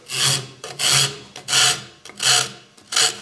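Microplane rasp shaping a mahogany guitar neck, five rhythmic rasping strokes in a steady back-and-forth pattern, loud and close with short pauses between strokes and no voices.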